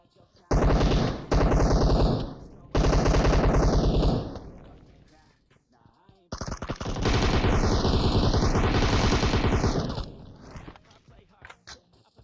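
Rapid automatic gunfire from the video game PUBG Mobile comes in loud sustained bursts separated by short pauses, close and dominant throughout.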